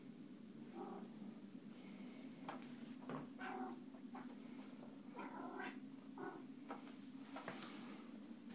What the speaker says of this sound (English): Her meow.